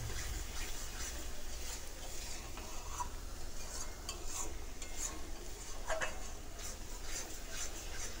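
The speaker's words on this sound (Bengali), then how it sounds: "এবার সব কিছুকে আবারও আমি কিছু সময় ধরে কষিয়ে নেব, যতক্ষণ না মশলা থেকে তেল ছেড়ে দেয়।" Spices cooking down in oil in a pan for chicken curry over a medium-low gas flame, giving a steady soft sizzle with occasional scraping stirs, fairly quiet, with no talking.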